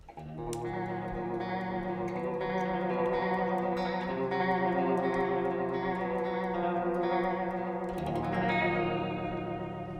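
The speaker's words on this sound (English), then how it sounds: "You're hearing vibrato mode." Guitar through a Belle Epoch delay pedal in vibrato mode with a shorter delay time and fewer repeats, sustained chords shimmering with a steady pitch wobble and soft echoes, played alone at moderate level.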